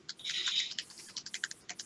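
A computer keyboard is typed on in short, quick bursts. The clicks are close and crisp, first as a dense flurry and then as evenly spaced separate taps, with no talking.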